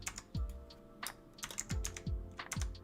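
Typing on a computer keyboard, sparse irregular clicks and key thumps in small bursts, quiet and close, with no talking.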